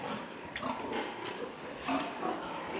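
Piétrain pigs on a farm give a steady run of overlapping grunts and snorts at close range, mixed with some higher squeals over a noisy background.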